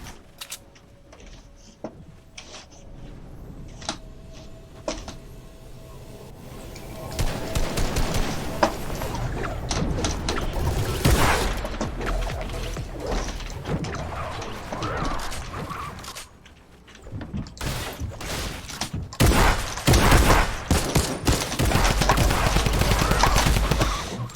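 Gunfire in Fortnite, scattered bursts and rattling volleys of shots, with mechanical clicks and clattering in between, growing busier and louder partway through, mostly without talk.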